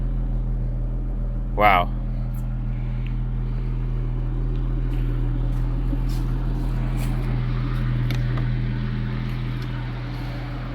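A classic Jaguar XJS engine idles smoothly and steadily at close range, a low even hum with no misfires, while a voice briefly exclaims over it.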